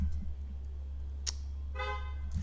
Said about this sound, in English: Somebody's honking at me.